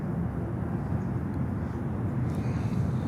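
A British Airways A380 arriving from London Heathrow lands at Miami airport, heard as a steady, broad roar of jet engines that holds constant throughout the stretch.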